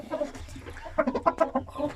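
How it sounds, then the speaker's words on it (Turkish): A prized breeding rooster clucks close by in a series of short, uneven calls that grow busier toward the end, with no other voices. "Evet damızlık için getirdiğimiz horozumuz"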